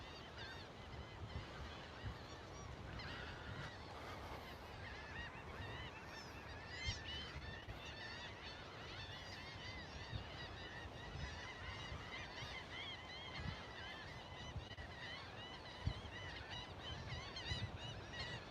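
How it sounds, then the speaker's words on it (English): Gulls calling in a busy chorus at Indian Point Park in Portland, Texas, where people appear to be feeding them, with repeated squawks and honks layered over steady outdoor background noise. "Yeah, we got a lot of gulls around here."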